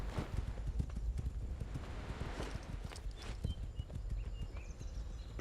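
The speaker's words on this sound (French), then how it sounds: "C'est un cheval que j'entends là." Horse hooves clip-clopping in the video game SkySaga, a steady run of hoofbeats heard alone at moderate volume with a little background ambience and no talk.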